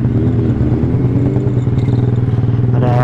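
Yamaha R6 600 cc and R15 motorcycles ride along an Indonesian street, engines droning loud and close with steady rough pulsing and a rising rev at the end.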